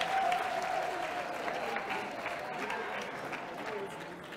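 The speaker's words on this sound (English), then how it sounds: "Let's give them a round of applause for doing such a wonderful job." An audience at an annual education congress applauds steadily, moderately distant and fairly quiet, with crowd murmur and a faint voice under the dense clapping.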